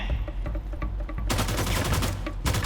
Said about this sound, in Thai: เป็นปืนลั่น